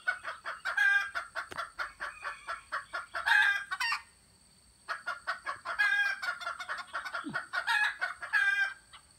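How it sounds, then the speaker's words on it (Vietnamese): Wild junglefowl in the countryside cluck steadily and crow in bright bursts, close and prominent, with a brief pause midway and a constant insect hum behind. "Thế nhìn thấy gà rừng không?"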